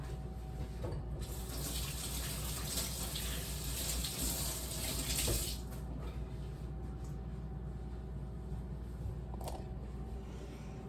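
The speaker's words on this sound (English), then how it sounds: "let me rinse my hands" Hands rinsed under a running kitchen tap while making pumpkin pie twists, a steady close splash of water flowing over skin for the whole stretch, with brief louder surges as the hands move through the stream.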